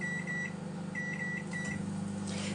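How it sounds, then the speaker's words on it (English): A 700 watt microwave oven runs with a steady low hum, joined by a few short beeps near the start and midway, heard close and alone without talk. "that one's a 700 watt microwave, so I've popped it on for 11 minutes"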